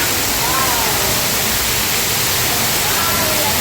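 Steady, dense rush of water falling in an artificial waterfall fills the whole clip, loud and continuous with no pauses.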